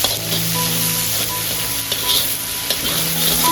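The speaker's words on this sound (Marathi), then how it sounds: "थोडं फ्राय करून घेऊया तेलात" Cabbage and carrot stir-fry in oil for chicken fried rice, giving a loud continuous sizzle with light stirring noises throughout.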